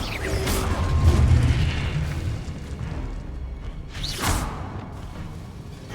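The Diffindo cutting spell cast in Hogwarts Legacy, heard as a low magical whoosh and rumble followed by a second bright swishing burst, with mechanical game effects underneath.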